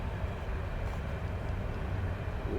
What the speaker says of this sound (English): Now we got a train. I forgot there was a train bridge here.